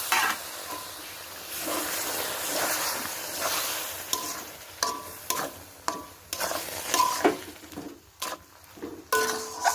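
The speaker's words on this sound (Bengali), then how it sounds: "এইভাবে হালকা আঁচে আমি নাড়তে থাকবো নাড়তে নাড়তে একটা শক্ত ডো তৈরি করে নেব" Semolina dough for pitha being stirred in a pan over low heat, with uneven scraping and clinks of the spoon against the pan over a soft background sizzle, bursts growing more frequent toward the end.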